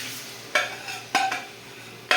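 Spoon scraping as khichuri with spices, oil and meat is stirred in a cooking pot, three distinct scraping strokes at irregular intervals over a low steady background hum.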